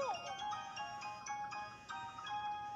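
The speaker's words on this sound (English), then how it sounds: "That's a new ringtone." Phone ringtone in Paper Mario: The Thousand-Year Door, a bright repeating electronic melody of short tonal notes ringing clearly at a steady rhythm.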